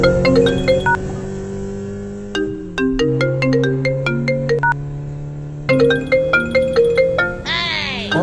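Mobile phone ringtone for an urgent incoming call, a loud electronic melody of repeated bright tones in bursts that plays on alone with no talk.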